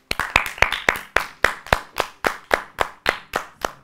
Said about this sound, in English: And now let's introduce Teacher Caro and let's clap